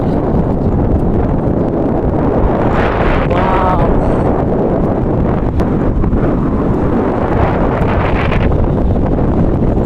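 Strong wind buffets the microphone on an island shore at Teknaf, Bangladesh, a loud constant roaring rush with gusty swells.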